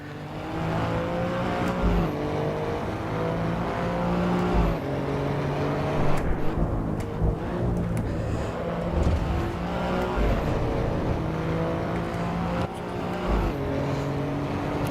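A race car in the Assetto Corsa Evo racing game revs hard and continuously, its engine climbing and dropping through repeated gear shifts at close range, with occasional tire squeal.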